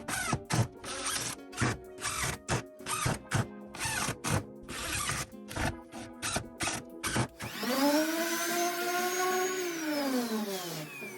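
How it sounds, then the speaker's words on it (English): A power sander on spruce wood revs in rapid bursts with short pauses, then runs steadily for several seconds and winds down, loud and close. "I just finished sanding down my wood."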